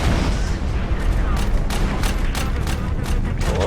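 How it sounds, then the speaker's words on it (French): Repeated rocket launcher blasts from Prototype 2 go off in steady succession, each a sharp burst over a dense, continuous rumble of game combat noise, loud and close. "Prends le lance-roquette. Vise le véhicule. Et on tire."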